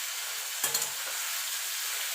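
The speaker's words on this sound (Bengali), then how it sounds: "এবার চিংড়ি মাছ, পেঁয়াজ আর কচুরলতিটা মিনিট খানেক একটুখানি নাড়াচাড়া করে নেব।" Shrimp, onion and kochur loti fry in a pan with a steady broad sizzle, broken briefly by a soft scrape and clatter as they are stirred.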